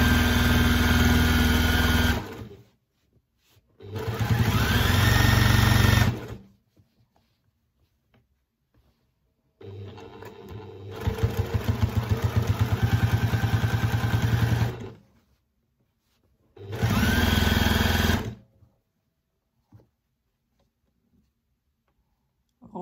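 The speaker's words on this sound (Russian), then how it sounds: "Шьем аккуратно прямым швом вдоль края." A sewing machine stitches a straight seam along the edge of a patchwork pillow, running in four close, loud motor bursts of differing length separated by short silent pauses, with no talking.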